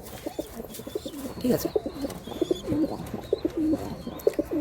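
Pigeons coo repeatedly inside a loft, close rolling calls with occasional chirps and rustling, while someone speaks briefly over them.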